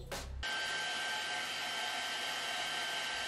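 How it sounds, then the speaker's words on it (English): After a brief click, a hair dryer switches on and blows steadily to dry ink on a painted miniature, a loud continuous whooshing hum with a faint high whine, no voices. "We use the hairdryer to speed it up"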